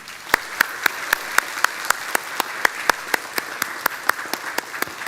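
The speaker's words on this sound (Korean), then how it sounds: "여러분 모두 다 축하의 박수를 해주시기 바랍니다" A church congregation applauds in celebration during a Sunday service, a regular pulse of sharp, evenly spaced claps over a soft bed of broader clapping, moderately loud and continuous.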